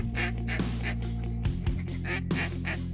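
Ducks quack at dawn before shooting light on an Oklahoma duck hunt, raspy repeated calls sounding close and loud over a steady low drone, with no talk.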